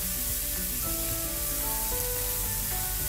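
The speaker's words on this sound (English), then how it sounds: "on the other side of the pan I'm going to add a little butter" A little butter sizzling in a hot frying pan beside cooking food for cheeseburger sliders, a steady, close, hissing fry that holds constant throughout.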